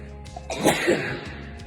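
A single close sneeze bursts out after a short intake of breath, loud and abrupt, then quiet room tone returns.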